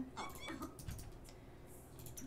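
A cat in The Sims 4 video game gives short, faint meows amid quiet game sounds and soft clicks.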